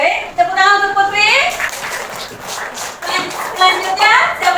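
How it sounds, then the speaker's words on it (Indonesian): A classroom of seventh-grade pupils applauding a classmate, a burst of scattered hand claps mixed with children's chatter and a teacher's voice throughout. "tepuk tangan untuk Putri"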